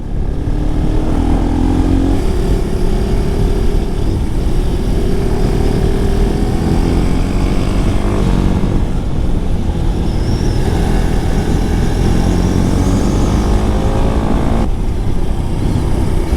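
A Husqvarna Svartpilen 701 naked motorcycle engine running loud and close, a steady droning roar with wind rush throughout.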